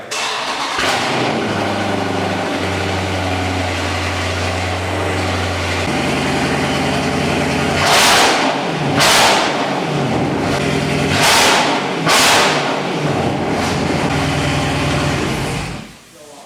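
Car with straight pipe exhaust, the engine idling with a low steady drone before rising into several loud, raspy revs that peak and fall back in quick bursts, then cut off abruptly.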